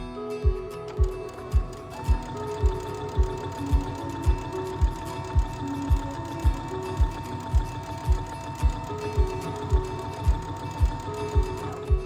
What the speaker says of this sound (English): we are going to go ahead and top stitch all around the outside